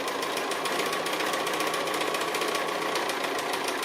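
A sewing machine runs continuously in free motion stitching of a tree silhouette, its needle chattering in a rapid, even, buzzing rhythm up close with no pauses.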